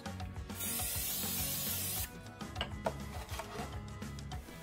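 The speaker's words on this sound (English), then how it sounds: "Prior to air frying, I am going to spray a light coating of oil onto the surface of the milk blocks." An oil sprayer mists a light coating onto the surface of Chinese fried milk blocks before air frying, giving one steady hiss of about one and a half seconds, followed by quieter rubbing and handling sounds.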